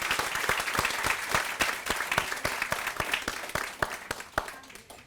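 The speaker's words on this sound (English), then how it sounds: "please give the team a round of applause." An audience at an apartment rededication for Vista Terrace Hills and Coronado Terrace claps steadily for several seconds, with distinct sharp claps standing out over a moderate, even wash of applause.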